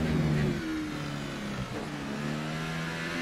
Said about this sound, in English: I think the car sounds a bit weird